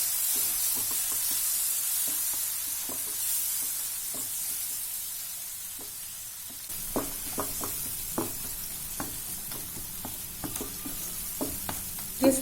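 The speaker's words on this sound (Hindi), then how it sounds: "ये सारे मसाले हमें अच्छे से भून लेना है और टमाटर को भी हमें भून लेना है।" Spices and two chopped tomatoes fry in a pan with a steady sizzle while a spoon scrapes and stirs in repeated close knocks, the stirring growing busier in the second half. No voices.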